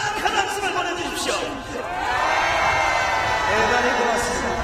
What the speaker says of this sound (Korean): 우리 악단 대원들에게 다시 한번 큰 박수를 보내주십시오